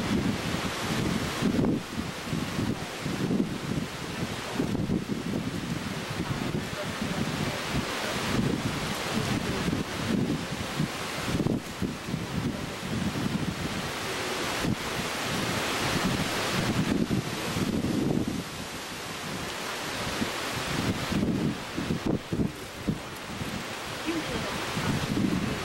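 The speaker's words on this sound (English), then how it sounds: "The turbine always slows down a little when it gets hit by a gust, and it'll speed back up." Wind gusts buffeting a small Lynx Zephyr wind turbine outdoors, a loud, continuous rushing roar with repeated surges and microphone wind noise throughout, no voices.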